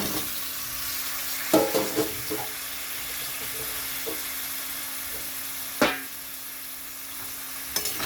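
Taro (mankochu) pieces sizzle steadily in a pan alongside tomatoes for a katla fish curry, with a few sharp clatters of stirring at intervals over the constant fry hiss.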